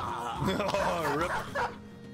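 In Battle Brothers, a dog named Brock gives a short burst of barking and whimpering yips, close and fairly loud, while someone talks over part of it.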